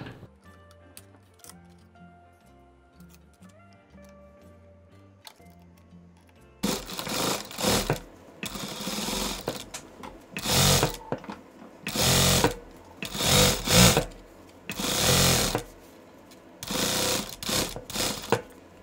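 A sewing machine stitches a zipper into a denim handbag using a zipper foot, with quiet mechanical ticking at first and then loud bursts of rapid whirring stitching separated by short pauses.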